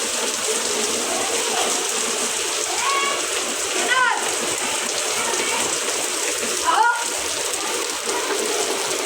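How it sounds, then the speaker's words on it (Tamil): Heavy rain pours down steadily, a dense, loud hiss of drops striking surfaces that continues without a break, with a few faint bird-like chirps briefly audible through it. "பெரிய மழை."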